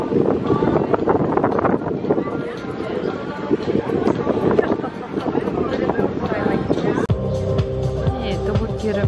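Wind buffets the microphone at a seaside rooftop bar in Polignano a Mare, Italy, a loud, continuous rumbling gust that runs throughout, with someone speaking over it.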